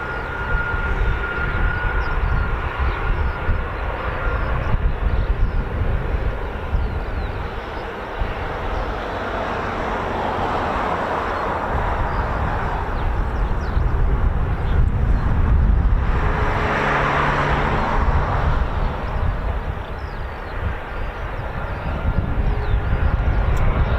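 Military aircraft roar at RAF Mildenhall, a US Air Force base where KC-135, MC-130J and CV-22 Osprey fly, a loud continuous engine rumble that swells and fades as planes move, with no voices.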